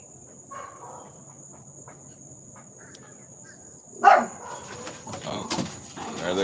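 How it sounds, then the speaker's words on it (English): Dogs bark in a sudden loud burst in the morning, followed by scattered further barks, over a steady chirp of crickets outdoors, with a person talking quietly. "They hear a noise, they bark and take off."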